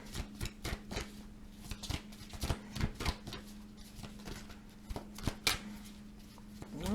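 Tarot cards being shuffled and drawn up close, a run of quick, uneven papery riffles and slaps, fairly soft, with no talk.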